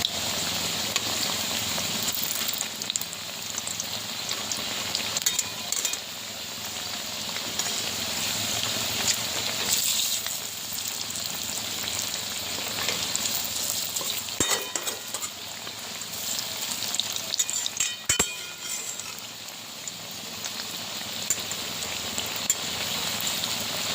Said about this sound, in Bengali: বড়াগুলো লাল লাল করে ভেজে নেব।